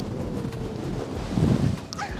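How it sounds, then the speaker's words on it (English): Strong wind at a seaside spot in A Coruña, Spain, buffets the microphone in a loud low rumble with gusts that swell midway, no voices heard. "This is how windy it is here."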